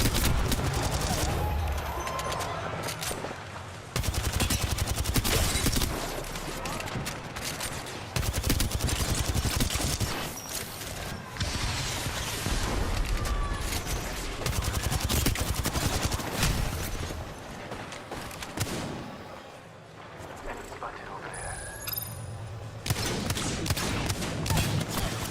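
Sustained bursts of automatic gunfire and scattered single shots from an Apex Legends competitive match, dense and continuous with brief lulls, layered with game effects and faint background speech.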